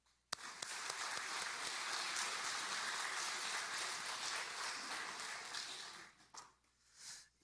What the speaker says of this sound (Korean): 찬양팀 축복하고 격려하는 박수 합니다